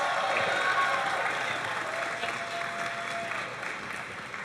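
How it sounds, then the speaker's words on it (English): An audience at a cosplay contest applauds a Toadette cosplayer, with dense steady clapping filling the room that tapers slightly toward the end. "Can we get some round of applause for"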